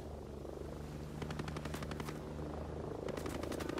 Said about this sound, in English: Yeah, we can't deal with the helicopter on us.